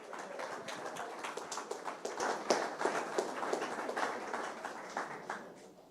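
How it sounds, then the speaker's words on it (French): Small audience claps at an asset-management industry event in France, a scattered, moderately quiet round of hand claps with uneven rhythm that holds steady for about six seconds. "On peut l'applaudir."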